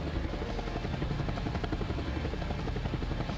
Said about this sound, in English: they are coming in. They are landing.